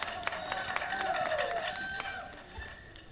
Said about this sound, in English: I could stand here and listen to y'all clap for me all day long